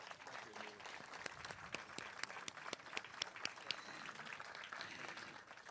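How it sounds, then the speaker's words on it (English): Steady applause from an audience at a mayoral bill-signing ceremony for the Sustainable DC Omnibus Act of 2014, a dense, continuous patter of many hands held at an even, moderate level with a few sharper claps standing out. "let's give him a big round of applause"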